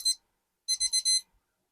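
An alarm clock beeps, one short burst and then a quick run of four electronic beeps, clear and fairly close in an otherwise silent room.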